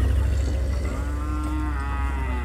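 A bull unloaded from a truck at the Hazratpur cattle market gives one long, loud, close moo that drawls and wavers over a low background rumble.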